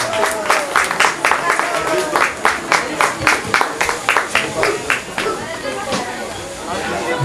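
Live audience at a DJ show at a beach venue claps in a steady rhythmic beat, loud and close, mixed with crowd chatter and a voice over the clapping.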